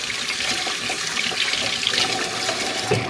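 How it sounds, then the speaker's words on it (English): Tap water runs steadily into a sink while hands are washed beneath it, a close, even splashing hiss with small shifts as the hands move through the stream, and no talking. "Now I'll wash my hands a little bit."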